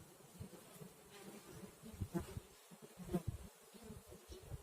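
A close, steady drone of many honey bees buzzing at an open hive fills the air, with soft rustling and a few louder passes near the listener.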